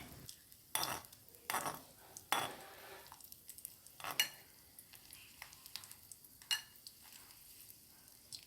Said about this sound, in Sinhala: දැන් අම්මා තමයි බදින්නේ.